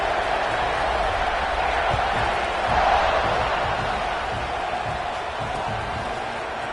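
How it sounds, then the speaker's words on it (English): A football stadium crowd buzzes steadily after a score at an Aggies versus North Carolina game, a dense roar of many voices that swells briefly midway, with a faint voice underneath. "this crowd is buzzing after that last score"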